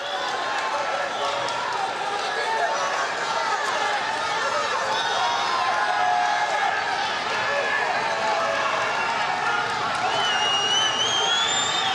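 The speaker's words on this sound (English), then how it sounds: "Crowd here is thundering." A thundering arena crowd roars steadily at an MMA welterweight title fight in the final round, loud and sustained throughout, with a commentator talking over the noise.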